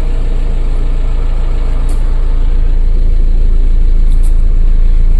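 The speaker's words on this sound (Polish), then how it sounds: "Silnik, zobaczmy jak chodzi." Volkswagen Passat B5 with a 1.9 TDI diesel engine idling steadily, a loud continuous low rumble with no talk over it, from a car with a turbo and valve fault causing poor acceleration.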